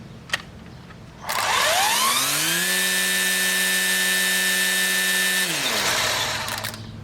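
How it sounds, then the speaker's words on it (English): A Hart 40-volt cordless electric string trimmer spins up with a rising whine, holds a loud, steady high-pitched buzz of the whirling line for several seconds, then winds down. "a lot of the noise is from the trimmer head, which is the string breaking the air, pushing the air aside, and hitting things"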